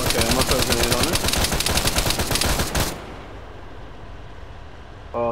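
Rapid automatic gunfire in the video game Arma, loud and close, rattling in a steady burst for about three seconds before stopping, followed by quiet background and a short engine-like buzz at the end.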